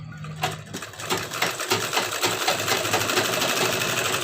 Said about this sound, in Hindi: इसके ऊपर एक सिलाई लगा लेते हैं